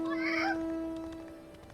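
A cat in the Final Fantasy XIV video game meows once, a clear, close, fairly loud mew in the first half, then fades into a steady in-game background tone.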